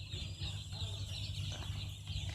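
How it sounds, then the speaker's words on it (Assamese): Indian Runner ducks on a farm, a steady dense chorus of low calls from a close flock, continuous over a constant background hum. "ইণ্ডিয়ান অনাৰ হাঁহ"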